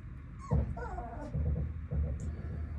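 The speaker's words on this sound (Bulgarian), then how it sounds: "Ето са малките кученца." Young puppies at a dog breeder's kennel give high, thin whimpers and yips in short bursts, close by, with a few whining cries that rise and fall.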